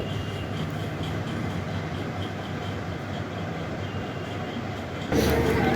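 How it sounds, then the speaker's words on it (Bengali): The Shalimar–Puri Superfast Express pulls into a station with a steady, heavy rumble that holds evenly, then swells louder just before the end. "সাড়ে বারোটা বা পৌনে একটার দিকে ট্রেনটা ঢুকলো শালিমার পুরী সুপারফাস্ট এক্সপ্রেস"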